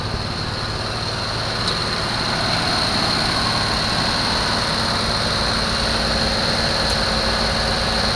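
A 1974 Nova's engine runs after starting, smoking heavily, a loud steady low rumble with a high whine on top, close and continuous.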